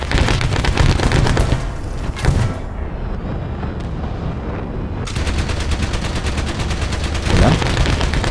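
A heavy .50 calibre machine gun fires in War Thunder tank combat, loud rapid bursts with booming impacts and a brief lull before firing resumes.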